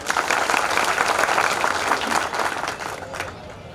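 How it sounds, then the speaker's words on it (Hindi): Loud, dense applause from a crowd at a Lavkush Jayanti 2025 gathering, sustained clapping that gradually fades toward the end. "उनके लिए एक जोरदार ताली।"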